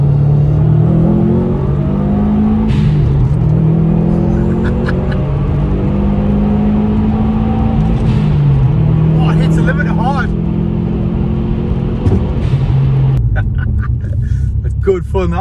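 A Ford Sierra Cosworth revs up repeatedly on a rolling road, its engine note rising and falling in long sweeps, close and loud, with people talking over it.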